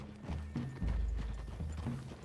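Horses in the Red Dead Redemption 2 video game clip-clop loudly and close, with a snort or whinny and deep, low rumbling hoofbeats, and no talk over them.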